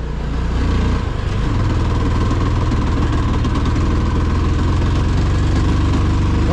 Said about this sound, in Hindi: थर्ड गियर में चल रहा अपना बाइक